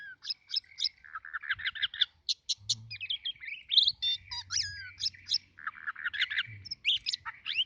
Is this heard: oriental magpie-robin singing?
yes